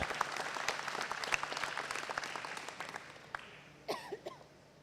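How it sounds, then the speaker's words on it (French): Audience applause at a village's municipal New Year ceremony in Cocumont, a lively run of many hands clapping in a hall that thins and fades, followed by a brief voice. "Vous pouvez les applaudir, ils ont fait un énorme boulot pour remettre ce site internet au goût du jour."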